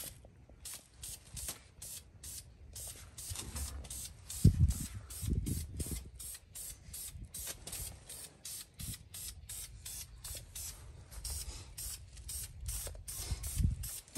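Rapid repeated hissing bursts of spray paint on a Ford F150 wheel with the rotor covered, close and rhythmic, with some handling thumps in between and no speech.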